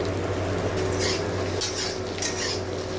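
Onion and potato frying in a pan for a Bengali mourola fish curry: a steady close sizzle with scraping and clinking stirs over it, no talking.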